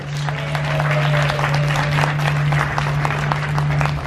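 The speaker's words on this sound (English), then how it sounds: "give yourself a round of applause" Passengers at a cruise ship mystery game clap for themselves, a steady wash of applause throughout over a constant low hum.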